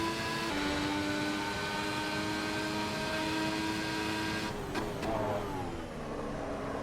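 A race car accelerates hard in the sim racing game Assetto Corsa Evo, its engine note climbing steadily in pitch, then dropping sharply at a gear change before rising again, loud and continuous with no talk.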